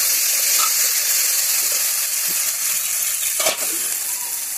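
Cumin and coriander paste hitting a hot pan, a loud, continuous close-up sizzle and steamy hiss with faint stirring clicks, no voices.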